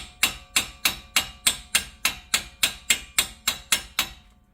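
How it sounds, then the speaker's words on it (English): Hammer lightly tapping a bearing part on a Jeep Wrangler front axle, about a dozen sharp, evenly spaced metallic knocks, close and clear with no talking. "since we are replacing this, we're just going to lightly hit that with a hammer"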